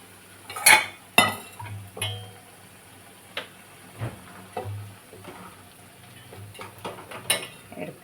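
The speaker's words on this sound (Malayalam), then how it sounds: "ഇത് നമുക്ക് കോരി വേറൊരു പാത്രത്തിലേക്ക് എടുക്കാം." Fried mushrooms being scooped out of a pan into another dish, with scattered metallic clinks and scrapes of a utensil against cookware, a few sharp knocks among quieter taps.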